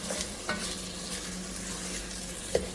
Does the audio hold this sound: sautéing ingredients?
yes